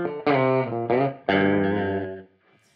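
Distorted guitar chords ring through a tile reverb with pre-delay from a Line 6 DL4 MkII pedal, sustained blocks of sound that fade into a short roomy tail.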